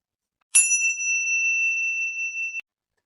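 A single bright electronic ding sounds alone, holding a steady tone for about two seconds before cutting off cleanly, like a phone ringing with no answer.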